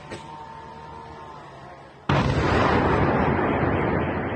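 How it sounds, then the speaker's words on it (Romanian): Explosions from a Ukrainian drone attack on Moscow: a low hum gives way to a sudden loud blast whose rumbling roar carries on afterward. "anunțat primarul Moscovei, Sergei Sobyanin, mai multe explozii fiind surprinse de ruși."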